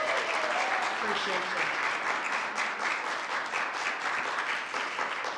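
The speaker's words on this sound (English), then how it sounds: "Again, give him another round of applause." A theater audience at an MLK celebration of poetry and performances gives a poet a sustained round of applause, dense and steady for the whole stretch, with a voice speaking briefly over it.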